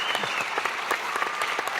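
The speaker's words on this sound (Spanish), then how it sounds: "Y pido un aplauso muy grande para Pablo." Audience applause at a library event honoring a guest, a brief dense burst of clapping from a gathered crowd, steady and fairly loud throughout.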